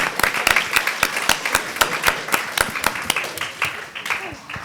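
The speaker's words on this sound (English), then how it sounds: "Round of applause." Audience at a Barclays tech innovation event applauding, a small group giving brisk, fairly loud scattered claps with sharp individual hand strikes, gradually thinning out toward the end.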